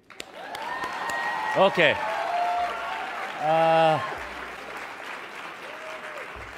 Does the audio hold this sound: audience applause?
yes